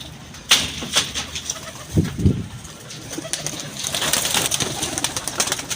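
Nearby pigeons coo softly while wings flap in short bursts, over a busy outdoor background of rustling and chatter.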